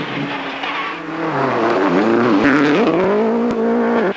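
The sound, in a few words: Tim McNulty's Subaru rally car racing on a stage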